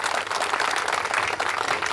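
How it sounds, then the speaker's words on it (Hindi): Audience applause at a school annual function, in a dense, steady wash of clapping that fills the whole moment at close range with no break. "मैं चाहता हूं इस साहस के लिए एक जोरदार ताली।"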